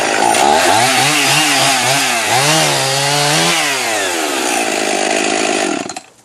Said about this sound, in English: you should probably be wearing safety glasses when you use a chainsaw